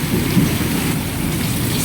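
Heavy rain pours down in a loud, dense, continuous roar, close and unbroken.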